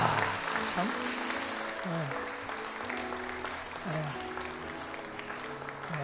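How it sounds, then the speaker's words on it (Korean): A church congregation at a new-members welcome gathering applauds in a steady wash of clapping beneath organ or keyboard music. "아니 이렇게 선물을 전달하는데 박수도 안 치는 데가 있습니까?"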